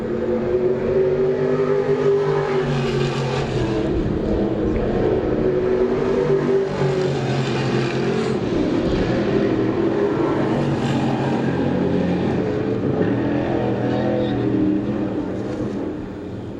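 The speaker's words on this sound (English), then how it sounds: "Van Orden motors by aboard that Yankee Propane 95 car" Small block race cars roar on a dirt oval during Eastern States Weekend championship racing, engines revving and droning continuously, rising and fading as cars pass, with a faint announcer voice at times.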